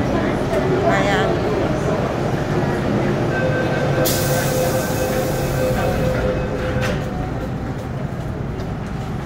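An MTR subway train rumbles steadily at North Point station, a continuous close rolling roar with a brief hiss and faint tones partway through, while a person talks over it.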